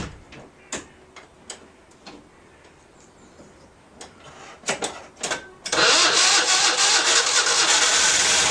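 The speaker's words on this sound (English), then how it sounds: "I'm going to start the car up and just let the engine warm up a bit to allow the oil to flow out" A Citroen Ami 6 engine cranks with a few clicks, catches at about six seconds, and settles into a steady, loud idle as it warms up.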